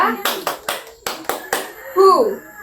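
A class of children claps in unison during a counting ice-breaker game, two quick sets of three sharp, close claps, followed by a voice speaking as the clapping stops.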